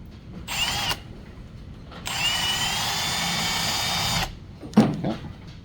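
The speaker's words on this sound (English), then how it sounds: "That plastic's easier to drill." A power drill cuts through plastic on a 1948 Ford alternator mount job: a short whirring burst, a pause, then a longer steady run, close and loud, ending with a brief knock.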